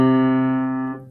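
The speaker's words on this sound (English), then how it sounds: "Here's C natural," A single sustained C natural note with rich, steady harmonics rings clearly and then fades out within about a second.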